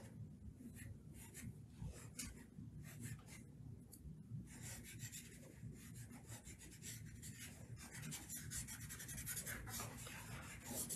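A finger rubs charcoal across paper to blend midtones in a drawing, giving a quiet, continuous dry rasping that swells and fades in strokes, with no talking.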